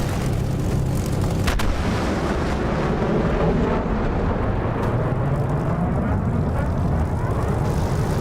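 A Spitfire in the DCS flight simulator roars through its takeoff run, the propeller engine loud and unbroken throughout with a broad, rumbling drone.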